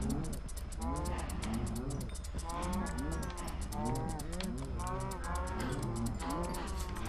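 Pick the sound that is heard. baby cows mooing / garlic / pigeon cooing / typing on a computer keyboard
baby cows mooing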